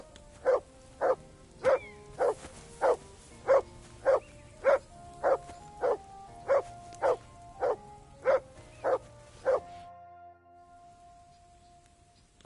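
A dog barks about fifteen times at a steady pace in Kingdom Come: Deliverance II, each bark clear and fairly close, with a faint ambient bed underneath; the barking stops after about ten seconds.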